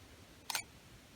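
A single-lens reflex camera fires its shutter once, a quick double click of mirror and shutter close to the microphone in an otherwise quiet room.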